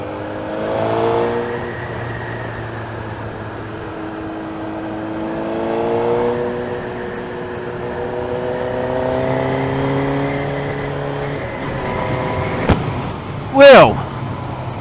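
Suzuki GSX-R 1000 streetfighter motorcycle engine rising and falling through several revs on a ride, steady and close, with rushing wind noise and a sharp burst near the end.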